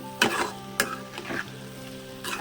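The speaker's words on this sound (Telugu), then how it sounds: "కూరంతా పచ్చి కాకుండా కొంచెం మంచిగా మాడకుండా స్మూత్గా తిప్పుకుందామండి" Prawn curry with ridge gourd sizzling and frying in a pan as it is stirred, with a few scraping strokes of the spoon over a steady close crackle and no talking.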